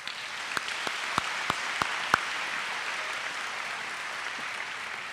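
Audience applause at a school awards ceremony, a broad steady wash of clapping with several sharper nearby claps popping out early on, sustained evenly to the end.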